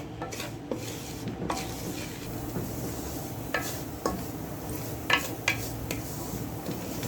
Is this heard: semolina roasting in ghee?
yes